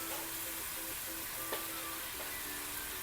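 Onions fry in a pan ahead of shrimp and baby squid being added, a steady close sizzle with faint stirring and no talk.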